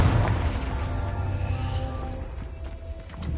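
Confringo fire spell blasts in Hogwarts Legacy gameplay: a dense, rumbling explosive roar with low booms and crackle sustained throughout, loud and close, with no voices.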